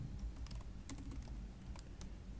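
Quiet, close keystrokes clatter on a computer keyboard in an irregular burst of taps, soft against a low background hum.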